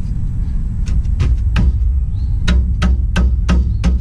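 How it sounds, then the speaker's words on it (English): Steel hammer tapping on the rear parking brake shoe of a 2003–2007 Chevrolet Silverado, a series of sharp metallic knocks in an irregular rhythm, close and fairly loud over a low workshop rumble. "what you can do is just kind of tap this down to be able to get the parking brake shoe"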